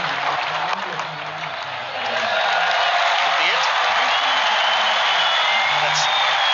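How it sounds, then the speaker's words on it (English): A stadium crowd applauds and cheers after Australia's cricket win over Zimbabwe, a steady broadband roar that swells louder after a couple of seconds, with faint commentary voices underneath. "they're getting a great round of applause from the crowd"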